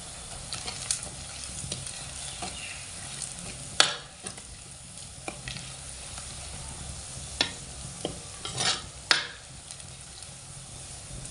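Chili and turmeric powder fry in a pan under a constant soft sizzle, broken by occasional sharp scrapes and knocks of a spoon stirring against the metal.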